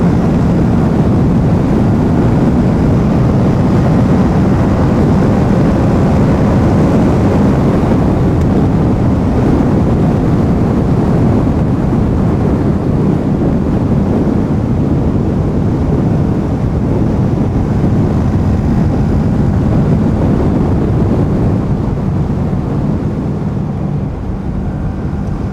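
Kawasaki Z650 motorcycle fitted with an Akrapovic exhaust, a steady, loud engine roar heard throughout with strong wind buffeting, no voices.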